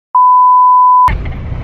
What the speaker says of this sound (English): I'm gonna put a beep in here.